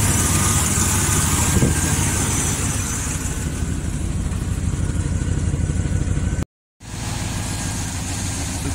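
An old car engine, a cheap secondhand buy with mice damage, runs at a steady idle close by: a constant loud rumble and whir, cut by a brief dropout near the end.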